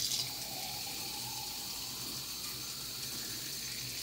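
Water pours steadily into a glass, a continuous splashing gush that stays fairly quiet and even from start to finish with no talking.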